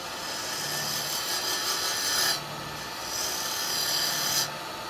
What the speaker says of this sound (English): Just going to make a start with the spindle gouge, that's all.